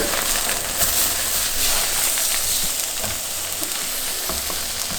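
Tofu pieces frying in oil in a pan for a vegan breakfast sandwich, a loud continuous close sizzle with small crackles and faint scraping as they are turned, no talking.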